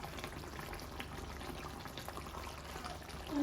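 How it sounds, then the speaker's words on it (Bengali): Coriander leaves are rinsed under water, giving a soft, continuous splashing and trickling close by at low volume. "এখন আমি ধনিয়া পাতা ধুয়ে নেব"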